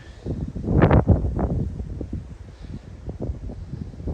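Wind gusts buffet the microphone on a San Jacinto mountain trail along the Pacific Crest Trail, a strong rumbling burst early on that settles into steadier rustling blowing, with no voices.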